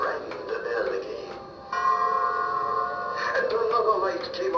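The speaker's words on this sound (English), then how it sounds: "They rang the bell again." A doorbell-like chime from an animated Halloween reaper prop rings as a steady tone of a few ringing notes, set between stretches of a sound-effect backdrop that is loud and close.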